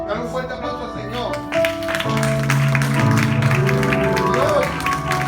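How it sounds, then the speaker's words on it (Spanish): Church congregation applauding, steady clapping rising after a moment and blending with crowd voices and organ-like music throughout. "Dale un fuerte aplauso al Señor."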